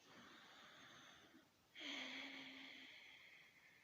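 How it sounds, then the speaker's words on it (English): Ujjayi breathing, air drawn and released through a slightly narrowed throat during a yoga class, two long soft hissing breaths heard close and quiet, the second one rougher and more voiced. "it's simply a slight restriction of the throat that makes an audible sound like this."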